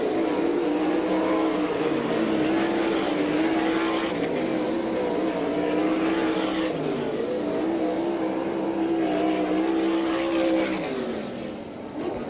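Sprint-style race cars roar around the dirt oval at Lincoln Speedway during an All Star Circuit of Champions event, a loud continuous engine drone rising and falling as cars circle, fading slightly at the end.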